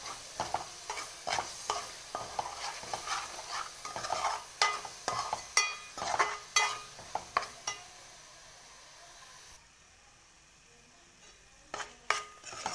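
A spoon stirs salt and chili spices frying in a pan for fish pulusu, with repeated sharp scrapes and clinks over a steady sizzle, close and moderately loud, then a quieter stretch of sizzling before a few final scrapes.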